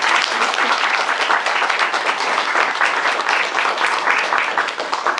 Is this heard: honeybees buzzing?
no